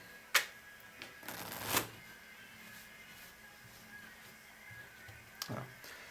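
A standard deck of playing cards is shuffled close by, giving a few sharp riffling bursts and soft flicks in a quiet room, with no talking.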